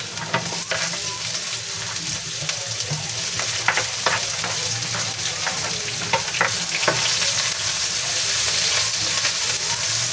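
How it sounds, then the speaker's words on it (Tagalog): Onions sautéing in a hot pan give a steady, dense sizzle throughout, with scattered sharp clicks and scrapes from stirring, close and continuous. "Simutin po natin. Siyempre yung ating sibuyas."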